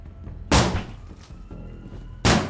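Two heavy thuds against a wedged door being kicked in a Zero Hour tactical game, each a sharp, loud impact about two seconds apart, with a low rumble between them and no talking.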